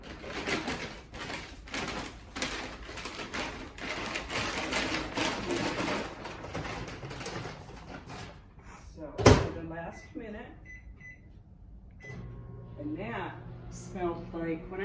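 Caramel popcorn is shaken and stirred in a paper bag, giving about eight seconds of fast, rhythmic rustling and rattling. A single thump follows, then quieter handling with voices talking.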